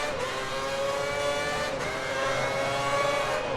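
Formula 1 car in F1 2010 on the European circuit, its high-pitched engine screaming steadily at speed with brief dips at gear shifts, loud and close with no talk.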